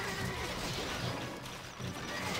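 A horse whinnies in the medieval strategy game Stronghold Crusader, the neigh rising over a dense backdrop of clattering hooves and battle clamor, moderately loud and continuous.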